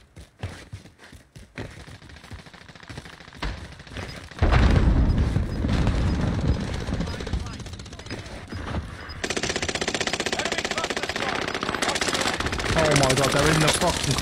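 Rapid automatic gunfire and bursts of shots ring out in a Call of Duty match, loud and dense, with heavier booms and continuous firing through the latter half while players talk over it.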